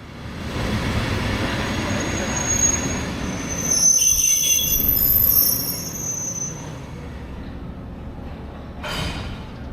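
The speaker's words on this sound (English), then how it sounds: "here comes the other locomotive, now ready to be attached to the train" A 50-year-old Taiwanese express train as an E200 series locomotive couples to its cars: rumbling and creaking on the tracks, with high metallic wheel squeals rising in the middle and a brief hiss near the end.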